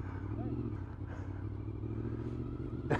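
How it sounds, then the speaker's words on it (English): Motorcycle engine idling and rumbling nearby with a low, steady throb, a light rise in revs near the end, and a voice talking faintly over it. "Trevor the angry motorcycle."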